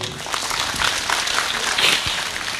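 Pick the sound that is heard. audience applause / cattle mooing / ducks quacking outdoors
audience applause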